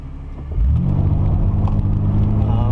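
An automatic car on a gravel road: a low, steady engine rumble swells as the car picks up speed and then holds as a heavy, continuous drone, heard close from inside.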